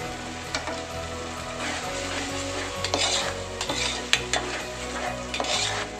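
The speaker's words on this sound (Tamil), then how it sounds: "நல்லா கொதிக்கட்டும்." Egg masala gravy with tomato paste simmers and sizzles in a pan, with a steady bubbling hiss and repeated scraping strokes of stirring, close and fairly quiet, no talking.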